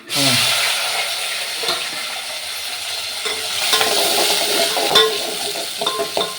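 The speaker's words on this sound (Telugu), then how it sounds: "మనం కట్ చేసి పెట్టుకున్న ఉల్లిగడ్డ టమాటా పచ్చిమిరపకాయలు మూడు వేసేస్తున్నా" Cut onions, tomatoes and green chillies hit hot oil with cumin and curry leaves in a pan, bursting into a loud sizzle that settles into steady frying with stirring scrapes.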